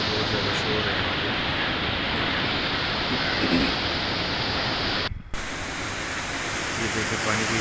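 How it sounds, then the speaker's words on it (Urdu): Roaring floodwater at the Nowshera boat bridge, a dense, steady, loud rush of water that fills the air without pause, broken only by a brief dropout. "یہ دیکھیں پانی کی شور کی آواز آپ سن رہے ہوں گے۔"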